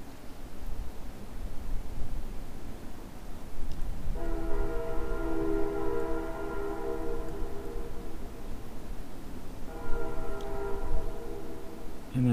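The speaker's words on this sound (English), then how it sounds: "Sounds like a train." A passing train sounds its horn in two long sustained blasts, the first about six seconds and the second shorter, over steady rumble and outdoor noise at a plein air painting spot.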